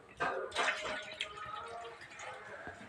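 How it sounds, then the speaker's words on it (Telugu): Water splashes briefly into a kitchen vessel for tea, a few short gushes and trickles heard up close and fairly quiet. "వాటర్ కొన్ని పోయాలి"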